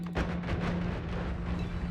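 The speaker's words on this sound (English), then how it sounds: "So, we're going big explosions at the moment." Big explosions in a video game, heard as a dense, continuous roar of booming blasts with a steady low rumble that runs for the whole two seconds, loud and close.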